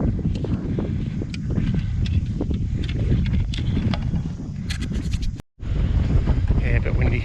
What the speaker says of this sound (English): Yeah, a bit windy.